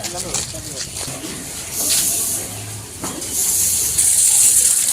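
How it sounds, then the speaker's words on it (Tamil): Water runs from a tap at a bus stand in a broad, hissing gush that swells louder partway through, with voices in the background. "தண்ணி வருதா பாத்துருங்க."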